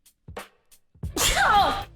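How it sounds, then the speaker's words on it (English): A young woman sneezes once loudly and close, after a couple of small sharp breaths building up to it, in a quiet indoor room. "I have to sneeze."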